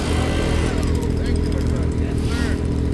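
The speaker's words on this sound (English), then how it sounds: "This guy comes around with a leaf blower and actually blows off the snow from your sled." A leaf blower clears snow off a snowmobile at a sledders' stop, a steady loud whooshing roar running continuously throughout, with engine rumble mixed in.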